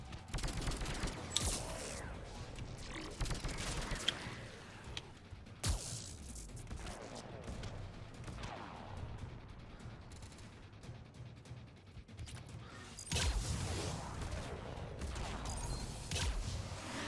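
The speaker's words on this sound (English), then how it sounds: "Oh shit, they're actually shooting." Enemy gunfire in the Mass Effect Legendary Edition DLC, rapid bursts of shots and impacts that come and go, with louder volleys near the start and end and mechanical game effects between them.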